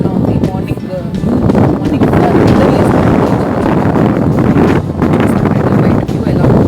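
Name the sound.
strong wind blowing into the microphone outdoors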